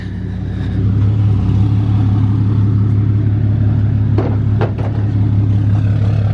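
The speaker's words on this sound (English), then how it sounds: "we're unloading the Saleen right now" Engine of an 2008 Saleen Bullet car idling and revving steadily at close range, with a low, continuous rumble and brief sharper bursts near the end, no talking.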